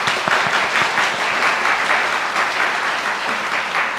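Congregation at a Good Friday joint communion church service applauding together, a steady, full roar of many clapping hands that holds at an even level.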